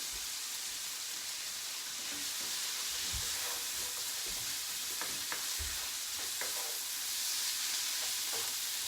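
Green peppers sizzle steadily in a hot pan with vinegar for Cuban chicken and rice, a continuous frying hiss broken by soft scraping stirs, with no talk.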